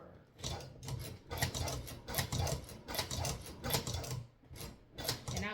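A $100 leather sewing machine stitches steadily up close, its needle mechanism producing a fast regular mechanical clatter in short runs separated by brief pauses.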